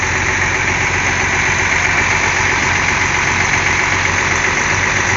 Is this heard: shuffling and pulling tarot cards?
no